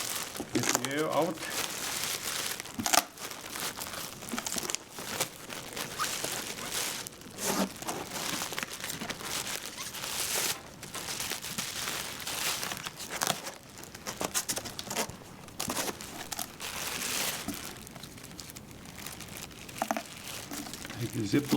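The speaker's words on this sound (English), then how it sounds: "Get the air out." A plastic bag in an Olson container is squeezed to push the air out, giving long stretches of close, loud crinkling and rustling in irregular bursts, with a person talking at points.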